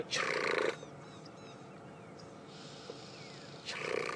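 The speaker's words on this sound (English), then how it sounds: "That sound. That's the oxpeckers." Thin, scratchy oxpecker calls chatter faintly at a distance over a low steady background hiss, with brief louder rustling bursts at the start and end, on a safari drive at Djuma Game Reserve.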